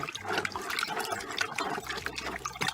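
A homemade fertilizer mixture is stirred by hand, giving close, wet sloshing and swirling liquid sounds that continue without pause for a couple of seconds.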